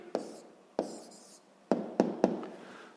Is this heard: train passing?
no